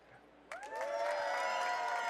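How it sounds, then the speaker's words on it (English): An audience at a photography presentation at PhotoPlus Expo bursts into cheers and whoops after a quiet moment, swelling quickly and staying loud, with high shouts rising over the crowd. "everyone will hear the cheers and freaking out"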